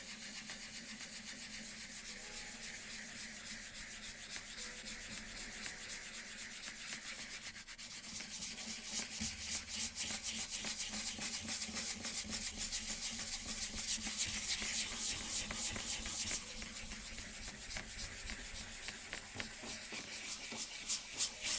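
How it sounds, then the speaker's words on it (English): Wood sanded by hand with 120 grit sandpaper for a reading nook book nook, a steady close rasping rub in even back-and-forth strokes that grows a little louder and faster toward the end. "Oh, right, sandpaper. Let's see, this should be 120."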